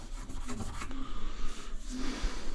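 A scraper rasps at clips around a shower drain during a DIY bathroom job. Rough scraping strokes repeat closely in an uneven rhythm for a couple of seconds, with no talking.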